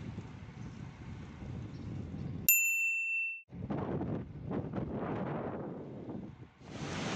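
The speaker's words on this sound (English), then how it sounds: "The bells indicate the start of our ride today." A single bright bell ding rings out with a ringing tail at the start of a bike ride up the Stelvio Pass, set against outdoor wind noise and bustle before and after.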